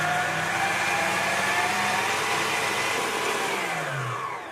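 Electric mixer creaming butter and sugar for a wedding cake, a loud, steady whirring drone that runs throughout and eases slightly at the end.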